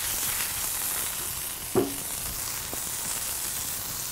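Butter sizzles on a hot griddle for toasting burger buns, a steady soft hiss with one brief clack partway through, no voices.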